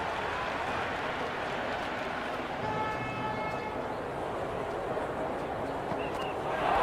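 Steady crowd roar from a stadium audience at an India vs South Africa one-day international in the Cricket 26 video game, a continuous dense wash of cheering that swells slightly at the end, with faint horn-like tones drifting through.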